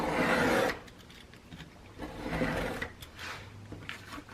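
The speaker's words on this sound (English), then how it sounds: "I'm just going to go ahead and trim this off" A blade trims through paper for a mini scrapbook album in a few separate scraping passes, close and fairly quiet, with a louder stroke at the start and no talk.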